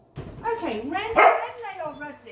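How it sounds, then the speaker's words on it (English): A dog barks and yips in the background of a home kitchen during scone baking, several sharp barks close together while a person speaks over them. "Sorry about the dog in the background."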